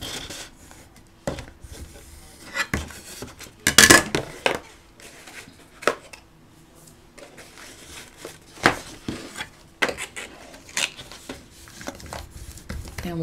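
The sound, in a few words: bone folder rubbing folded paper box flaps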